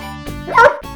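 A single dog bark, close and clear, a short two-part yelp with a sharp rise in the middle and a brief tail at the end.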